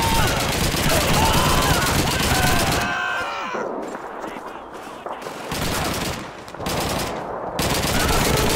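Dense, rapid machine gun fire rattles loudly in a Call of Duty 2 battle, sustained bursts broken by short pauses before the shooting resumes, with voices shouting beneath the gunfire.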